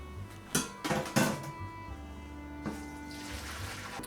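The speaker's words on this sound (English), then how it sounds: "we strain it" Food is strained through a colander while making sun-dried tomato pesto, with a few clattering knocks followed by a soft wash of draining water.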